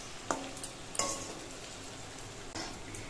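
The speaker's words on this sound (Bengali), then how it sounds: "দু পিঠের লালচে রং করে নিয়ে বড়াগুলোকে ভেজে নিতে হবে।" Palm fritters (taal bora) crackle gently in hot oil, a low continuous sizzle marked by a few brief clicks of a spatula against the pan.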